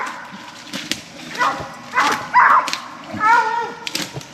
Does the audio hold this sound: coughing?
no